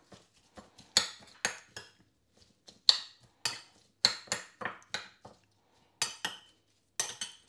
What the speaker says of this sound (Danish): Vi tager lige og rører det hele sammen en gang.